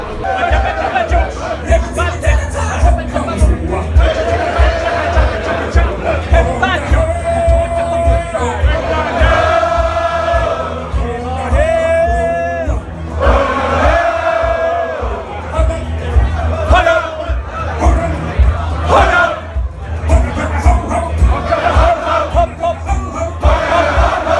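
Crowd at the Royal Vauxhall Tavern in London roaring and cheering in reaction to a yoik performance, a loud continuous mass of shouts, whoops and babbling voices swelling throughout, with a voice singing in bursts amid the noise.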